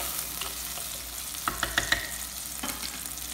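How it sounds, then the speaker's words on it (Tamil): Tomatoes sauté in hot oil for a spicy fish curry, a soft continuous sizzle broken by a few bright spatula clinks against the pan. "இது வந்து ஒரு 2 மினிட்ஸ் வதங்கட்டும் தக்காளி"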